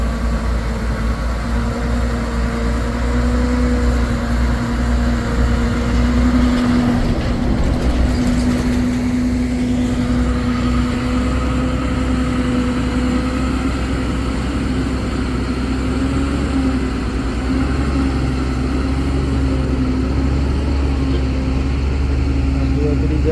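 A heavily loaded trailer truck climbs a steep hill at Bukit Kodok. Its engine drones loud and steady at close range with a sustained growl that strains and shifts in pitch, and voices talk faintly underneath.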